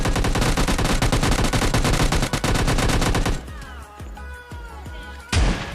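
Rapid automatic gunfire from PUBG Mobile Lite fills the first half as a loud, continuous stream of shots. Scattered single shots and softer game sounds follow, then one final loud blast near the end.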